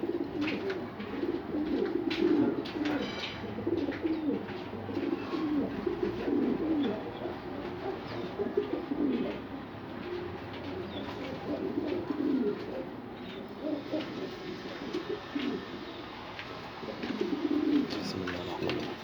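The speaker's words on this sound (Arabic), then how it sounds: "هنفرجكم جوزين قطاطة، هنفرجكم 4 حمام" Pigeon cooing from two pairs of Qatqati pigeons plus four more birds, a steady soft chorus of low rolling coos that continues throughout.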